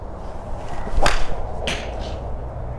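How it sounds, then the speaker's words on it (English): A single sharp whoosh and crack as a 1986 MacGregor G 945 graphite driver swings through and strikes a golf ball, followed by a second fainter swish, over steady outdoor background noise. "We're gonna take a full-on modern driver swing."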